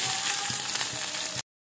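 Garlic frying in hot oil with cumin, heard as a dense, close, steady sizzle and crackle that cuts off abruptly, with no talk.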